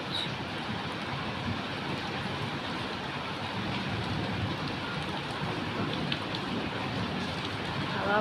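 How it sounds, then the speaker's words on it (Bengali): Heavy afternoon rain falling outside a house with wind, a dense continuous roar of drops steady throughout the whole stretch. "আর এখন গিয়ে বেশ ভালো বৃষ্টি পড়ছে।"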